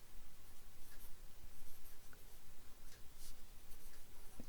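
Pen scratching numbers and letters onto folded paper folders, a steady soft scribble with small tapping strokes, close and quiet, with no voices.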